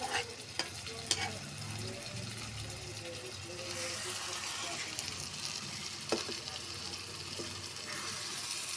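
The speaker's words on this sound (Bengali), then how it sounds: "এখন আমি মাছগুলি সুন্দর করে কষিয়ে নেব।" Fish with green chilies braised and stirred in a pan for a tomato fish curry, steady frying sizzle under scraping spatula strokes and a few sharp clinks, close and continuous, with no talking.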